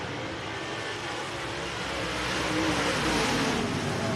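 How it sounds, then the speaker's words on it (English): USRA Modified race cars roar around the track at RPM Speedway, a dense, continuous engine drone that swells slightly as the pack passes. "We're back underway here for the B main race number 1 of the USRA Modifieds"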